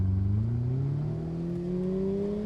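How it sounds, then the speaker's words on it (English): A Ferrari 488 Pista and a 296 GTB accelerate side by side in a drag race, their engine note rising steadily in pitch as the cars pull away, a moderately loud, continuous drone with no voices. "when we get to the white line, both of us, we then both accelerate."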